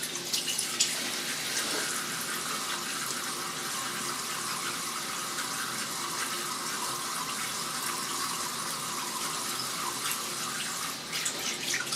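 Steady running water from a tap while shaving soap is rinsed off the face, a continuous broad hiss held at an even level throughout with no talking.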